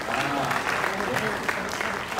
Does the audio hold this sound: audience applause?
yes